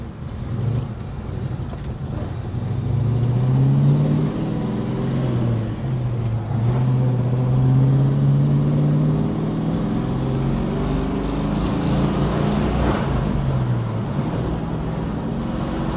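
A 1969 Chevrolet COPO Camaro clone engine idles steadily as it warms up, a loud, close, continuous low rumble with slight shifts in pitch, no voices.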